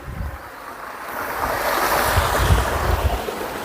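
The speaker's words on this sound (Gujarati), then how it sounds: "પથ્થરની અંદરથી પાણી નીકળી રહ્યું છે" Water pours out of bare rock at a natural spring at Fot Mahadev near Nakhatrana, a continuous rushing splash that swells slightly louder, with no voices.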